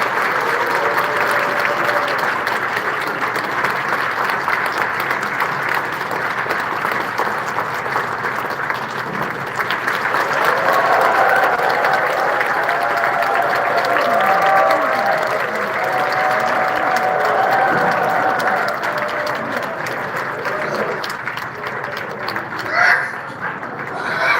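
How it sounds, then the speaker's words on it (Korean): An audience at Hadong church applauds to welcome a ventriloquist speaker, a long loud stretch of steady clapping that carries on with voices faintly mixed in beneath it. "박수로 맞으세요."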